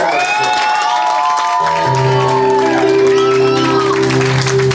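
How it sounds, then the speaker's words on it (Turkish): Crowd applause and cheering at a Turkish music event, loud clapping and shouts that continue under a sustained held musical tone with voices mixed in. "şimdi alkışlar François Garan için"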